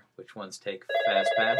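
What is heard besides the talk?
telephone ringing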